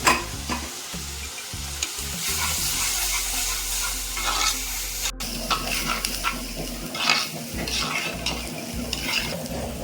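Onions and tomatoes fry in a pan with a continuous close sizzle and crackle, broken by occasional stirring scrapes and a brief gap midway.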